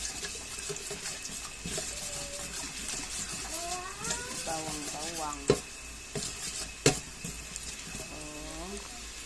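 Garlic sizzles in a frying pan with soft, steady crackling and stirring, joined by a couple of sharp clinks and some faint background voices.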